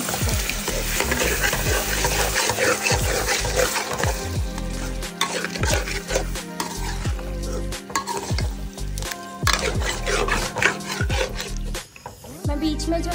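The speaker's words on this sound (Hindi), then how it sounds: "अब हम इसमें फेटा हुआ दही डाल देंगे" Whisked yogurt stirred into mutton karahi in a Lahori-style pan, a loud, steady sizzle under continuous scraping strokes of the spoon that keep going for the whole stretch, with a brief lull near the end.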